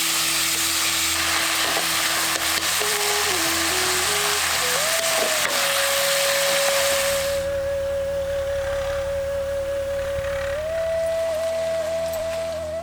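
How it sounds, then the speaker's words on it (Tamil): Onions, garlic and about 250 grams of chopped tomatoes fry in a pan, giving a loud, steady close sizzle throughout with faint stirring, while a tonal hum rises and shifts underneath. "அடுத்து 250 கிராம் நறுக்கி வச்சிருந்த தக்காளியும் சேர்த்து நல்லா வதக்க ஆரம்பிச்சிருவோம்."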